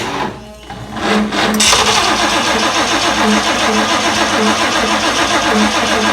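Ford 460 V8 cranking without ignition: a steady, loud, rhythmic starter churn that runs continuously after a short lead-in, with no firing.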